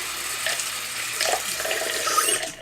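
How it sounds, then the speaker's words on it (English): Warm tap water runs steadily into a sink, wetting a beauty blender makeup sponge; a close, continuous splashing stream with no voices. "I take a little bit of warm water and I wet the beauty blender down quite a bit"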